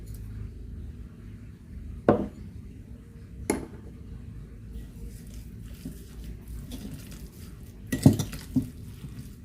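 Homemade longganisa meat mixture with soy sauce, pepper and brown sugar being stirred in a bowl: soft squishy mixing under a few sharp clinks of utensil against the bowl, close by, with no talk.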